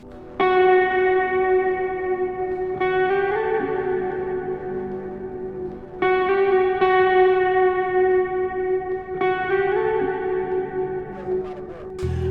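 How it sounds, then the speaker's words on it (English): A recorded guitar melody for a lo-fi beat, played through reverb, echo and distortion. Ringing plucked notes are repeated in phrases about three seconds apart, bright and clear with no voice. "So to get that myself, I recorded this guitar melody."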